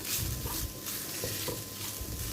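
Grated coconut being dry-roasted in a pan over a low flame, a soft continuous hiss with gentle scraping stirs at intervals, quiet and close.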